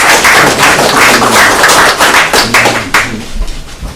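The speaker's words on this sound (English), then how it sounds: "maybe we could applaud that." Attendees at a board meeting applaud in a dense, steady burst of clapping that stays loud and close for about four seconds, thinning slightly near the end.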